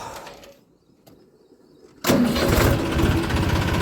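A quiet lull with faint clicks, then a Massey Ferguson tractor engine suddenly cranks and catches, settling into a loud, steady rumbling idle.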